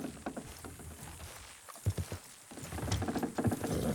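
Horses in Red Dead Redemption 2 straining to pull something down, with irregular hoof thuds and scraping bursts, close and moderately loud, no talk.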